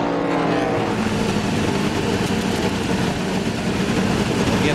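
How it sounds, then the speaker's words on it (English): Dodge ARCA race car on pit road at Pocono with an Ernie Elliott engine that runs rough, as if not firing on all eight cylinders, making a steady loud engine drone for the whole stretch. "You can hear it almost, don't even sound like it's running on 8 cylinders."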